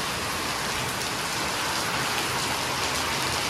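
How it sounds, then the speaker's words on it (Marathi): Heavy evening rain pours down in a dense, steady hiss of drops drumming on nearby surfaces, constant and fairly loud throughout, with no voices. "तर आता संध्याकाळी पावसाची सुरुवात बघा किती झाली, जामच पाऊस आलाय"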